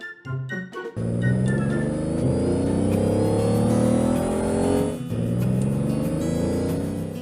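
A car engine roars and revs steadily as it is driven erratically by a drunk driver, loud and close, with a brief dip and surge midway after some short clunks at the start.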